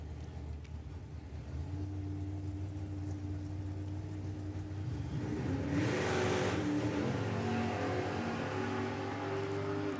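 Drag racing cars run down the strip at a nationals meeting, a continuous engine drone that swells around the middle as a fresh burst of throttle roars through, then holds steady at a distance with no voices heard.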